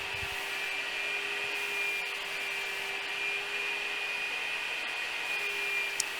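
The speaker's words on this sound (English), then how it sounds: "Here I'm spraying my pre-cat lacquer, and I'm using my new gun that I purchased. It's the Fuji Pro 2." A Fuji Pro 2 spray gun applies pre-cat lacquer to a farmhouse table or chair, giving a steady, close hiss with a faint high whine that runs unbroken throughout, with no talking.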